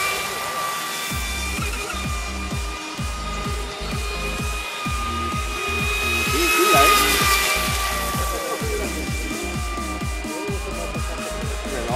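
A small RC model engine runs in at low throttle, its rapid regular chugging beats steady throughout with a thin high whine above and a brief swell in the middle; a voice talks over it.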